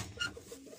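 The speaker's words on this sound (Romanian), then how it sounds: "au și doi porumbei" A short, soft cooing call from a pigeon or dove, heard close by against a low rumble of background noise.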